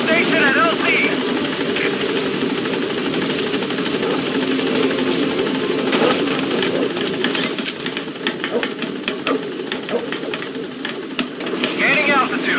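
A helicopter in Metal Gear Solid V landing and lifting off, its steady whirring rotor and engine drone loud and continuous throughout, with voices talking over it.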